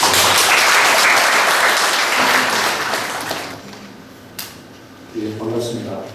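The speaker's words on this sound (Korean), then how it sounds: "박수로 맞아주십시오" Audience applause at a Korean church-related founding assembly in Jinju, a dense, loud wash of clapping that fades after a few seconds, followed by a voice beginning to speak.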